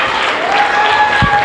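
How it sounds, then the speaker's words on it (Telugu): A brief burst of audience clapping at a children's Vacation Bible School action song session in Kurnool, loud and close, with a thin tonal whistle running through it. "అందరూ చప్పట్లు కొట్టండి."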